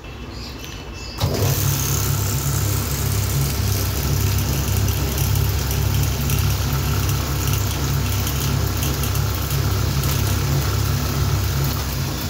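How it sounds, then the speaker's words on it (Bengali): A coil winding machine switches on and winds a Crompton ceiling fan coil, settling into a loud, steady motor drone with a rhythmic low whir that continues to the end, with no talking. "চলো কথা না বাড়িয়ে সুইচটা মারা যাক।"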